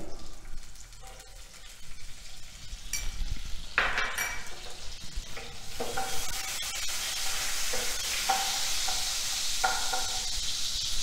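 Butter and ghee sizzle in a hot pan for dal makhani, a steady frying crackle under repeated clinks and scrapes of a spoon against the metal pan, close and moderately loud, with no talk.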